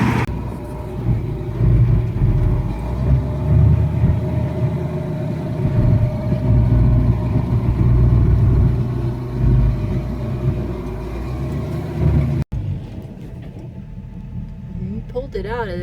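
A big business truck labors up a sandhill after several failed tries, a loud continuous engine rumble close by, with someone talking over it before the sound cuts off abruptly.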